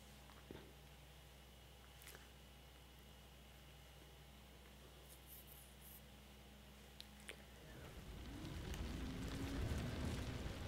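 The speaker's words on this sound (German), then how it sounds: "So, hier regnet es mal wieder." Rain in the video game Outriders builds into a steady patter over the last few seconds, rising from a quiet background hum and becoming a dense, soft hiss.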